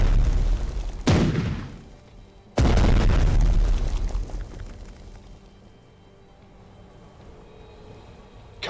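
Two heavy booms from a collective volley in the Strategic Mind: Blitzkrieg naval battle, loud and sudden, each followed by a long rumbling decay that fades into quiet.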